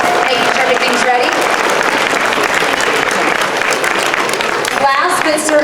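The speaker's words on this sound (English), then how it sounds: "So if we can have a round of applause" Loud audience applause at a school Christmas chorus event fills the whole stretch, steady dense clapping from a crowd in a hall with a few voices mixed in.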